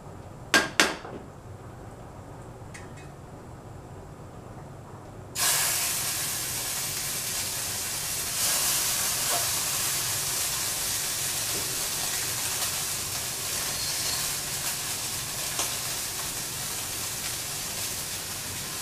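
Scallops sear in virgin olive oil in a pan, giving a loud, sudden burst of sizzling hiss that holds steady after a few sharp clinks at the start, with occasional crackles and no talking.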